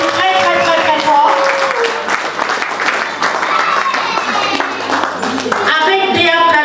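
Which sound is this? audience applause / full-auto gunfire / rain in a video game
audience applause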